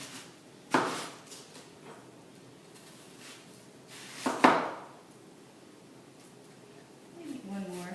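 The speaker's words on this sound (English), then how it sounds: "I'm just going to slice it and then chop it" A knife cuts through a red onion on a board in a kitchen, with two sharp, distinct chops about four seconds apart amid quiet background noise.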